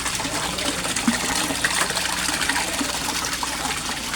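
Bubbling, trickling water in a three-foot-deep koi fish pond, a steady broadband wash of splashing and gurgling that continues without pause, fairly close, with no talk.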